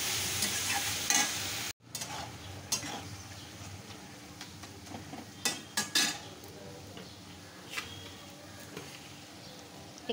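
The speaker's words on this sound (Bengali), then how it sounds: "ততক্ষণ আমরা মশলাটাকে ভালো করে কিমাটা দিয়ে কষিয়ে নেব।" Spices and minced mutton frying in a pan for tarka dal, a steady close sizzle with scraping stirs and a few sharp clinks of a utensil against the pan, a brief cut near the start.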